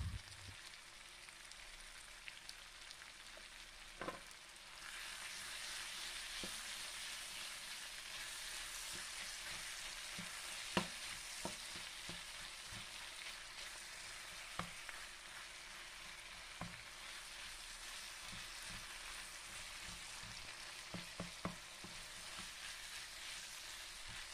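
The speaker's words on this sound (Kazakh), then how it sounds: "Томат пастамызды қосып, 20 секундтай қуырамыз." Tomato paste fries in a pan for about twenty seconds with a soft, continuous sizzle, broken by occasional spoon taps and scrapes against the pan.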